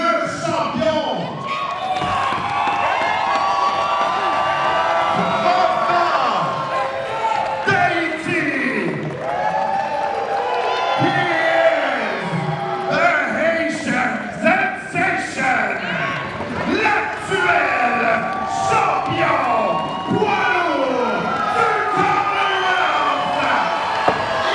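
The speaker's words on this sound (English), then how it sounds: "That is resounding, unequivocal negation by this crowd." At a boxing event, a large crowd boos the challenger, a loud, sustained roar of jeers that swells and dips for the whole stretch, with an announcer talking over it.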